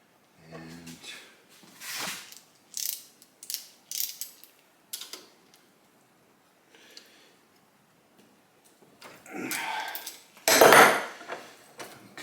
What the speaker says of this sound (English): So let's put this 14 mil nut on there.